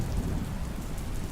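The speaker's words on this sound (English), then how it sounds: "listened to the echoes of the storm. The wind. The rain." Storm sound effect in a narrated story: steady rain with a low rumbling wash of wind and distant thunder, continuous and fairly faint, with no voice over it.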